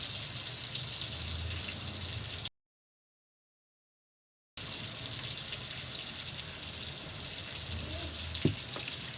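Chicken frying in a pan with honey and soy sauce gives a steady, close sizzle broken by a brief gap, with a sharp clink near the end and no talking.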